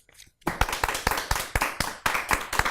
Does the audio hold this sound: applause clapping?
yes